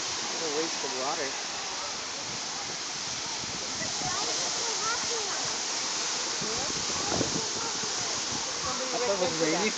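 Water rushing down a waterfall through a flooded area, a continuous loud hiss and splash heard close by, with people talking over it.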